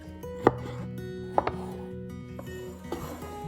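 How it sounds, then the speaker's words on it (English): A knife dices two Roma tomatoes on a board, giving a handful of sharp, irregular chops close by over a faint background hum, with no voices. "To add a little brightness and acidity to our dish, we're dicing 2 Roma tomatoes."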